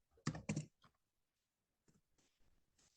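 A few quick, close keyboard clicks in a brief burst, then a pause and softer scattered keystrokes in a quiet room.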